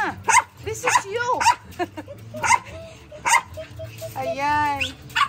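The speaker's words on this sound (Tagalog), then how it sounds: "Kat, ito yung aso mo." A dog barks sharply a few times and whines at a tiny home, close by, amid people chatting in Filipino.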